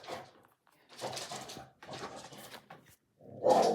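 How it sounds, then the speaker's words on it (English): A dog barks in short bursts at close range indoors, with a louder, sharper bark at the end. "Sorry, my dog's protecting me."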